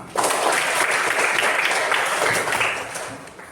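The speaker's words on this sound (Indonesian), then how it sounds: "Tepuk tangan untuk kita semua." A class of junior high school students in Indonesia applauds together, a dense burst of clapping that starts sharply, holds steady for about three seconds, then tapers off.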